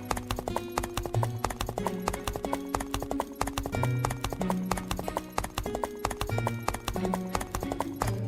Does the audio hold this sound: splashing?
no